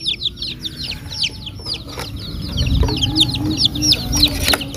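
Many dyed, colourful chicks chirping rapidly in a steady stream of high peeps as they ride in a toy truck bed, with rumbling background noise and occasional knocks.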